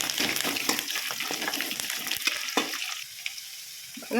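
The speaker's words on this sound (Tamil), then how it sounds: "நல்லா வெங்காயத்தை பொன்னிறமாக வறுத்து எடுத்துக்கலாம்" Onions and curry leaves fry in hot oil with a bright, steady sizzle, and intermittent stirring scrapes sound close to the pan before the frying quiets near the end.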